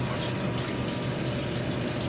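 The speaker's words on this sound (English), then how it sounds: "I'm gonna wash my knife." A kitchen tap runs in a steady, loud, unbroken stream while a knife is washed, with the flow splashing continuously close by.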